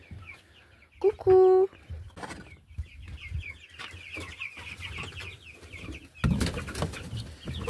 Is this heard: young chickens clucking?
yes